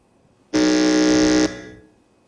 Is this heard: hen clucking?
no